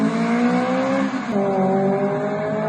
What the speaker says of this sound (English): What you, my friends, just heard is the OBX twin loop muffler